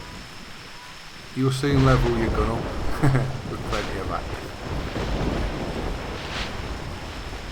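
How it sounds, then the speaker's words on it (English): Rain and thunder in theHunter Classic hunting game form a broad, constant wash of noise with a deeper rumble beneath, while a voice speaks over it partway through. "Do love the rain and the thunder."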